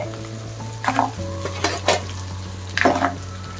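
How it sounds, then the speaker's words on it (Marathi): Oil sizzles and spatters steadily as crabs are stirred into hot spiced tempering oil, with a few scraping clatters of a spoon against the pan. "आता या फोडणीत हे खेकडे घालायचे"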